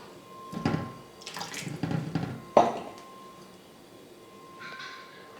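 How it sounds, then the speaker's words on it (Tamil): Water is poured from a tap into a bowl of flattened rice (aval/poha) to soak it, in a few short splashing bursts close by, followed by a quiet pause. "இப்போது கொஞ்சமாக தண்ணி சேர்த்து நான் அவலை ஊற வச்சுக்க போகிறேன்."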